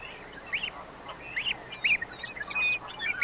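Canada geese call out across a wetland in a string of honks and squawks, moderately close, some of them overlapping, over a quiet, airy background.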